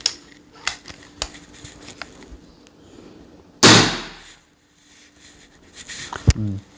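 A single sharp shot from a NovaVista Cobra PCP air pistol, a loud close crack followed by a short decaying tail, amid handling clicks and quiet background noise.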